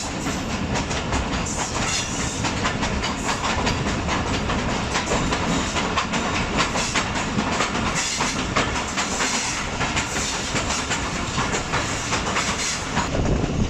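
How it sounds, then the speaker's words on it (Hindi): Thall Express pulling out of Masan railway station on the Rawalpindi to Mianwali line in Pakistan: a loud, steady rumble of carriages with continuous clickety-clack over the rails and a hissing wash throughout. "130 डाउन थल एक्सप्रेस मसाल रेलवे स्टेशन से रवाना हो रही है"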